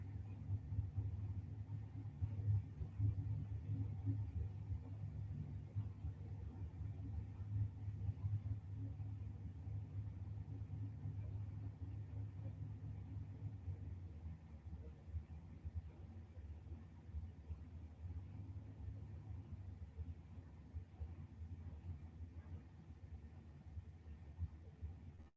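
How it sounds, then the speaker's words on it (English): S10 pickup truck drag racing at Gainesville Raceway, heard as a distant, low engine rumble that holds steady and faint for a long stretch. "Alan Rouse Sr. coming back around in the S10 pickup truck"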